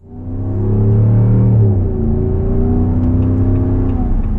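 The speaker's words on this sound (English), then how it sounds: "there's that Hemi sound, baby" A 2026 Ram 1500 Bighorn 4x4 pickup's Hemi V8 engine revs up loudly, holds a throaty rumbling roar, then settles into a steady powerful drone, close and alone.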